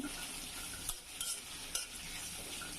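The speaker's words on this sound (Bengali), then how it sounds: "নাড়াচাড়া দিয়ে দিচ্ছি।" Onions and green chilies stirred in a frying pan, with a steady sizzle throughout and a few louder scrapes of the spoon as the mix is turned.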